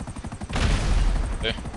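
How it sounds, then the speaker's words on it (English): Missile explosions from co-op missiles in the video game GTA V Online, a loud rumbling burst lasting about a second with a brief higher whine near the end, heard over game noise and faint voices. "when you're using the co-op missiles, the explosion sounds different? Like, it sounds like it's hitting something"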